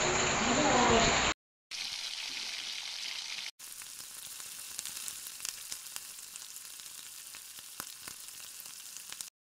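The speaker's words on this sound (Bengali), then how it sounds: "প্রথমে আমি মাছগুলো ভেজে নিচ্ছি" Fish frying in oil in a pan, a steady close sizzle after a couple of abrupt cuts at the start, moderately quiet with faint scattered pops and no talking.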